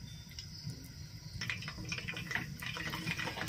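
Chicken frying in oil under a covered pan on low heat: a faint, steady bubbling sizzle with soft, scattered crackles, muffled by the lid.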